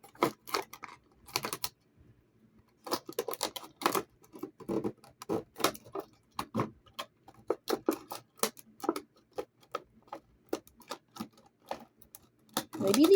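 Scissors snipping through plastic doll packaging, a run of short irregular clicks and crunches, close and fairly faint, with brief pauses between cuts and quiet talk.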